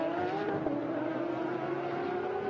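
A Porsche race car at speed on the Sonoma Raceway track during a GT Cup race, its engine a steady, sustained drone held at a fairly constant pitch throughout, with no talk.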